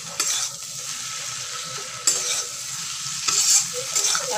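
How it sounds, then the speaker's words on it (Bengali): Fish frying in oil in a pan while being stirred, a close steady sizzle broken by a few sharp utensil scrapes and clinks against the pan, no voices. "আবার একটু নাড়াচাড়া করবো"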